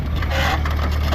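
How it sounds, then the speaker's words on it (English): Wheel of a J.I. Case 730 corn planter rubbing against the double disc opener while planting in the field. It makes a steady, coarse scraping and grinding noise that stays close and loud throughout. "I don't know if it's the wheel maybe rubbing the double disc opener."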